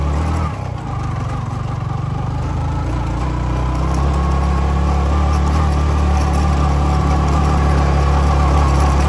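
A Yamaha MT15 motorcycle ridden off-road over a rocky, muddy track, its engine droning steadily and close throughout with a constant low throb.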